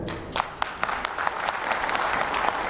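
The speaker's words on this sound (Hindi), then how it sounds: "एक बार इनके लिए जोरदार ताली बजाओ" Large audience at a Swami Ramdev gathering applauds in a dense, continuous wash of claps with a few sharper individual claps standing out.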